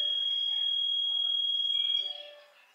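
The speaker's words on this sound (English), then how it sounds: "Making the alarm go off and stuff." A smoke alarm shrieks with a piercing, steady high-pitched tone for about two seconds, then cuts off and fades away indoors.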